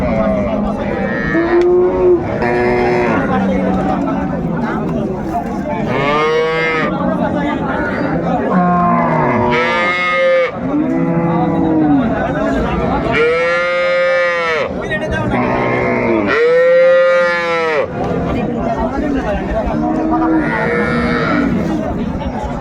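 Cows low repeatedly, long harmonic moos, at a busy cattle market in Bangladesh where cows with calves are sold; the calls come close and loud over constant crowd chatter and people talking.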